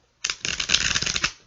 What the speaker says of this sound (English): If you don't want to watch me shuffle, please feel free to fast forward through this.